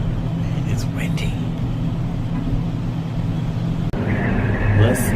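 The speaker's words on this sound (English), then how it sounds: "Listen to that wind." Strong wind blows around a car, making a steady, close, low roar that continues throughout with no let-up.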